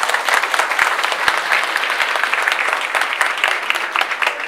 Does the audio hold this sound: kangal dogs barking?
no